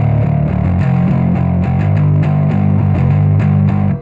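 An electric guitar runs through a GP-50 distortion preset with a green overdrive pedal, playing a thick, saturated riff of sustained, chugging notes at a steady loud level before cutting off at the end.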